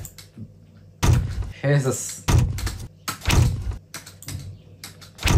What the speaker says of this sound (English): The kick and snare are made with door sounds